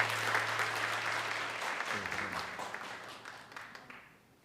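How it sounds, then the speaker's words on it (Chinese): Congregation applauding at a Presbyterian church Sunday worship service, a steady wash of many hands clapping throughout that gradually thins and fades toward the end. "好，我们鼓掌"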